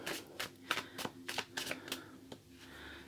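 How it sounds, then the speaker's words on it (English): Tarot cards are shuffled by hand in a quiet room, giving a series of crisp riffling bursts about every third of a second, close and fairly soft, with no speech. "I want to do another few shuffles for you."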